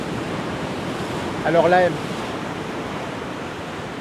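Ocean waves roll and break steadily on the shore near the north jetty at sunset, a broad continuous wash with wind noise on the microphone, while someone speaks briefly in French over it.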